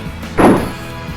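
A doll's head smashed into the ground in a video game lands as a single heavy thud with a short dull ring, standing out clearly against quiet background ambience.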